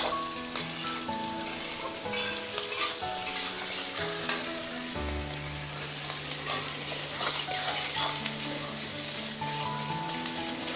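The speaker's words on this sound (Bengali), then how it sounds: "পেঁয়াজগুলো একটু ভাজা ভাজা হচ্ছে" Onions sizzle and fry in a pan for a Bengali poppy-seed dish, a steady close hiss with occasional stirring scrapes and a brief low clunk midway.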